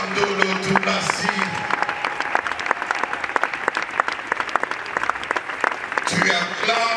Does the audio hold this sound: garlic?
no